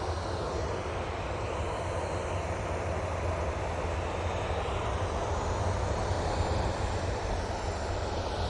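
Jet airliner engines spooling up for departure to Palma de Mallorca at Manchester Airport, a steady, broad roar that holds at an even level throughout, heard from a moderate distance with no voices.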